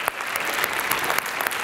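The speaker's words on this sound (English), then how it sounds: "give them a round of applause" A crowd at Wheaton Vision Night gives a steady, full round of applause, many hands clapping close together throughout the short burst with no talking over it.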